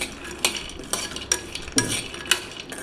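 Dry fruits roasting in ghee for makhana chivda, a quiet background sizzle punctuated by repeated scraping and clinking strokes of a spoon stirring in the pan, close by.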